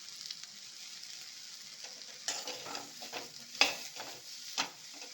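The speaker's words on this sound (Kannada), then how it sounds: "ಈಗ ನಾವು ಚೆನ್ನಾಗಿದ್ದು ಫ್ರೈ ಮಾಡ್ಕೊಳ್ಳೋಣ ಆ ಜಿಟ್ಟೆಲ್ಲ ಹೋಗಬೇಕು ಅಲ್ಲಿವರೆಗೂ ನಾವು ಫ್ರೈ ಮಾಡ್ಕೊಳ್ಳೋಣ" Okra sizzles and fries in a pan for a dahi bendi gravy, with a steady crackle and several louder stirring scrapes and bursts partway through, no voices.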